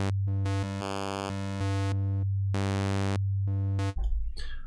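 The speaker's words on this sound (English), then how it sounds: "if you click on with the left mouse button on it, you can just switch hard cut between the waves" Hive 2.1 software synth wavetable oscillator in hard-cut interpolation mode, a sustained buzzy tone that jumps abruptly between waveforms in stepped blocks, each switch changing the timbre instantly, ending in a brief noisy burst.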